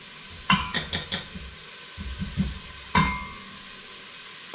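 Food for chili con carne fries quietly in a pan under a low sizzle, broken by a quick run of four sharp utensil knocks, then softer scrapes and another loud clack.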